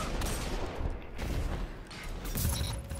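Gunshots in a video game battle: several loud, close shots in quick succession over about three seconds, with a booming, reverberant tail.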